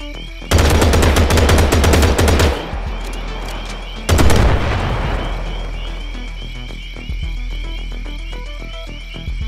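Gunfire in the video game Gangster New Orleans: rapid automatic bursts ring out loud and close, one long volley then another after a pause, over a constant game hum.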